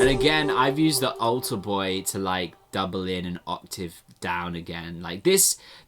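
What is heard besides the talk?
No everyday noise stands out behind the speech.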